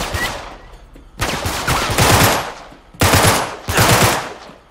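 Loud automatic gunfire bursts out in the video game Uncharted 3, four rapid-fire volleys of about a second each with brief pauses between them.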